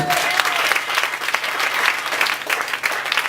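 A church congregation applauds and cheers the Lord Jesus during a sermon, with dense, steady clapping that fills the room throughout and a brief raised voice near the start.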